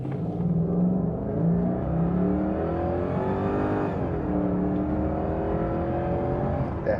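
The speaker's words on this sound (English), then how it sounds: "And here is full bore automatic acceleration to 60." A Jaguar XK8 accelerates at full throttle to 60 in automatic sport mode, its engine note climbing steadily through a gear change with a smooth, strong roar heard from inside, no voices over it.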